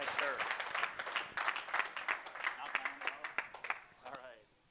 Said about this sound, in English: How about a round of applause for this Navy veteran?